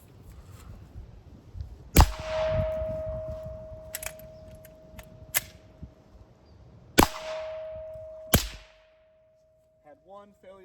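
An FN57 5.7 mm pistol fitted with a stainless steel SWR Spectre 2 suppressor fires sharp, cracking shots at irregular intervals with a ringing tail after each, outdoors, ending in a few faint clicks.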